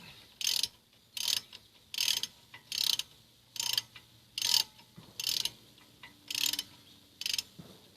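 A ratchet clicks in ten evenly spaced bursts, each a short, crisp run of clicks, as brake caliper bolts are tightened on a Mazda5 during a front brake pad replacement.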